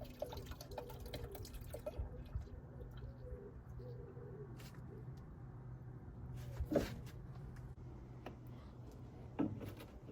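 Diesel drips from the fuel filter of a VW Caddy into an oil tray below: a few sparse, soft drips and taps over a steady low background hum, with one sharper drop near the end.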